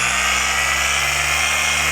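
A polishing machine runs a pass over vinyl on a Shelby GT350, giving a steady, loud mechanical whine with a low motor hum underneath, continuous throughout.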